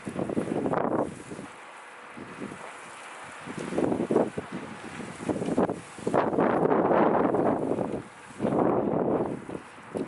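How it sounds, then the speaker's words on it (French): Strong gusty wind blowing outdoors, buffeting the microphone in loud irregular roaring surges with quieter lulls between, no talk. "Il y a un sacré vent."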